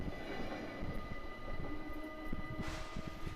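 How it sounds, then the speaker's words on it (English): A passenger train runs just outside Hilversum station as a switch defect throws its rear section onto the adjacent track. The sound is a steady rumbling rail clatter, then a sudden harsh burst of noise near the end. "a passenger train derailed just outside Hilversum station"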